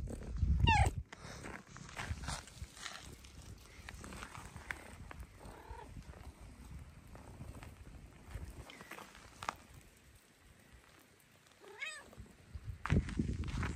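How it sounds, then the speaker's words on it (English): Kittens meowing in a yard on a rainy day, with a few short, clear meows near the start and end over steady background noise. "Oh, I'm seeing kittens scatter across the yard."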